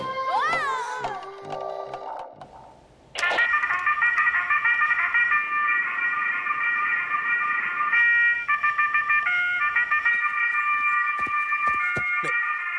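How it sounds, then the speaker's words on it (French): A cartoon alarm clock bursts into loud, continuous electronic ringing after a few seconds of animated vocal sounds, then keeps blaring steadily with small pulses and breaks until the end. "Mais c'est mon réveil!"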